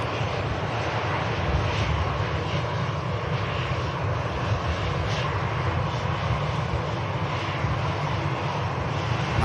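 A jet airliner in a special Tintin comics livery passes close by at Manchester Airport, its engines producing a loud, steady, broadband roar that holds constant from start to finish.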